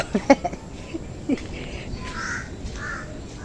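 A crow caws a few times in quick harsh bursts, then goes quiet while other birds call faintly in the distance over outdoor background noise.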